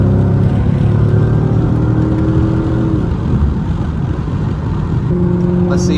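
A Mercedes W211 E55 AMG V8 roars loudly through its exhaust while driving, revving up in a sustained drone, easing slightly, then climbing again near the end; faint voices sit beneath the engine.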